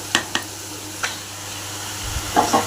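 Onions sauté in a pan at home, a soft steady sizzle broken by a few sharp scrapes and taps of a spoon stirring, close and with no talking.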